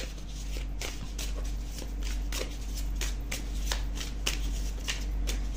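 Cards are shuffled steadily up close, a rapid series of crisp riffling snaps repeating over a low background hum.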